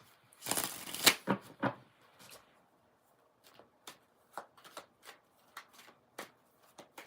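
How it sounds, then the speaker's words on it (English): A deck of cards being riffle-shuffled up close, a dense ruffling burst followed by a series of separate light card taps and snaps. "You want to be able to shuffle like me"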